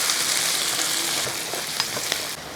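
Green chillies and finely chopped onion stirred and frying in a pan for a mung bean curry, a steady close sizzle with a few sharp spatula scrapes and clicks, no voices.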